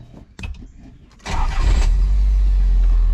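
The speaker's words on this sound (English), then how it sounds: "Starts right up." A Nissan 300ZX engine starts: a short cranking churn, a quick catch and then a loud, steady idle rumble that holds to the end, after some faint handling noises.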